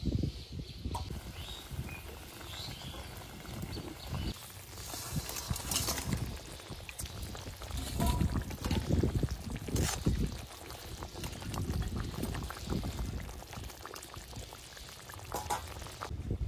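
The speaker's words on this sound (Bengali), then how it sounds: "জলে জাল উঠুক, তারপর মাছ দেবো।" Water comes to a boil in a cooking pot for a tangra fish dish, a quiet, irregular bubbling and churning with scattered soft knocks, close by and low in level.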